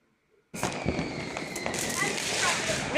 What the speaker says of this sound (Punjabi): ਇੱਥੇ ਸਾਡੇ ਗਵਾਂਢੀ ਚਲਾਉਂਦੇ ਪਏ ਨੇ ਬੰਬ